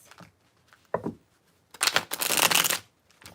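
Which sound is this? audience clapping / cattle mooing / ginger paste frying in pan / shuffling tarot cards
shuffling tarot cards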